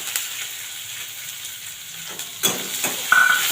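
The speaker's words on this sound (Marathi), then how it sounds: "शेंगदाणे चांगल्या पद्धतीने भाजले की त्याच्यामध्ये आपण चिरलेला कांदा टाकून देऊ" Chopped onion frying in a pan with roasted peanuts, a steady soft sizzle with stirring scrapes and clinks growing busier toward the end.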